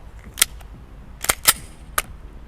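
Sharp gunshots from a CZ P-10C pistol at a target range ring out in an irregular string of four or five loud cracks, each ending in a short echo, with no talking between them.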